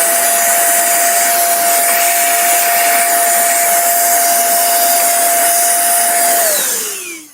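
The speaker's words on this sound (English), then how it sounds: "then go back in with the vacuum cleaner" A vacuum cleaner cleaning lint and grime from a machine runs with a steady, loud motor whir and strong airy hiss, then winds down in pitch and fades out as it switches off.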